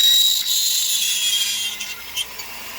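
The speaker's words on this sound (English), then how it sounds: "you can actually use it to drill holes" A Dremel rotary tool drills holes in a plastic shell, giving a high, steady whine that begins loudly and wavers slightly as the bit bites, with no speech.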